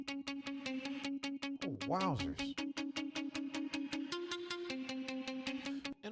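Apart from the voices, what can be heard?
reverb swells on plucky percussive sound, Ableton reverb automation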